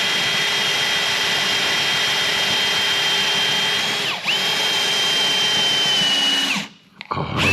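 A power drill whines steadily at high pitch, briefly dipping once midway, then cuts off near the end with a few short bursts.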